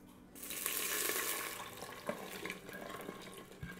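Water poured into caramelized sugar in a cooking pot for braised pork with mushrooms, giving a loud rushing hiss and sizzle that settles into softer bubbling with a few sharp spatters.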